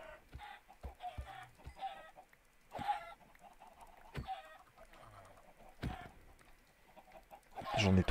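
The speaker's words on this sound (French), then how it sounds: "J'en ai trop, faut que je tue trop de poulets." Chickens in the Minecraft video game cluck repeatedly in short, irregular bursts, some louder and some fainter, with a few clucks overlapping and a louder squawk near the end.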